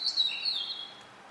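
A bird chirps outside in a short burst of high, bright tweets, fairly clear and close, with a quiet background and no talk.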